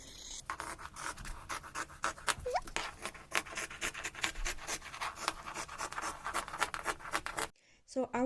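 Scissors snipping through fabric while a dress is cut and reworked, a rapid series of close crisp cuts and rasping strokes that ends in a brief pause.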